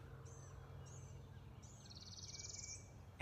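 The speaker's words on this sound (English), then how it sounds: "that other one, that's northern parula warbler" A northern parula warbler sings from a big cottonwood, giving a few short high notes and then a rising buzzy trill that ends abruptly, faint and distant over low background rumble.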